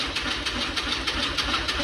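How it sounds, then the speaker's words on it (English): A Honda CRX engine, turbocharged, cranks on its starter with a rough, fast rhythmic churn that repeats steadily and loudly, close by, with no speech over it. "This starter sounds wild."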